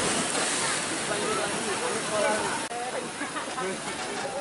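River water at the Gua Kaca natural bathing site rushes in a dense, constant wash of splashing and hiss that fills the whole stretch without pause.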